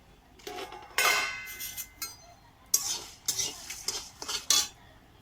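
A metal spoon stirs and scrapes whole coriander, dry red chillies and fennel in a dry pan, with irregular clinks and scraping strokes, quick and close, with no talk.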